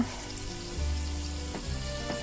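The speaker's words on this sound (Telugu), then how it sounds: "పచ్చిమిర్చి వేసుకొని దోరగా ఉంచుకోవాలి" Green chillies and onions sizzle in hot oil in a pan for Andhra biryani, a steady close frying hiss with a low rumble and no talking.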